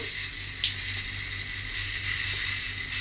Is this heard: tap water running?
yes